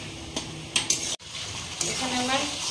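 Chicken and potatoes sauté in a hot pan as a spoon scrapes and stirs them, with a few sharp clinks against the metal. A soft sizzle rises toward the end, and there is no talk.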